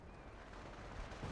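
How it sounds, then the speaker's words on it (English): Artillery fire in a Company of Heroes match, a low continuous rumble of distant shelling and blasts over steady battlefield noise, with no voices. "We have artillery coming in."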